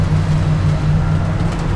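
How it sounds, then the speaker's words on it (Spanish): A small Honda car engine running while driving along the coast, giving a steady, loud low drone of engine and road noise heard from inside the car. "Para que escuchen ese gran motor."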